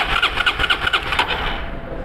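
A motorcycle starter cranks the engine with the key on during a starting-system test, a rapid, pulsing whir repeating for about a second and a half before it stops and fades, close and fairly loud with no talk.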